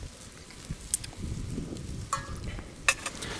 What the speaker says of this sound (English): the carrot soup's boiling, so that didn't take long at all